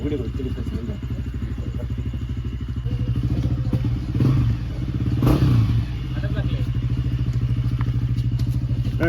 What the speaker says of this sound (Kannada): ಬೈಕ್ ಎಲ್ಲ ನೋಡಿ ಲೋಡ್ ಮಾಡ್ತಿದ್ದಾರೆ